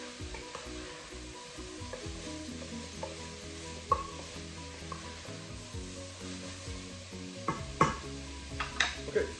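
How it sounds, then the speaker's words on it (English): Turnips being stirred in oil in a pot for keto turnip soup, a soft sizzle under scraping and clinking of a utensil against the pot, with a few louder knocks. "And then give it a good mix."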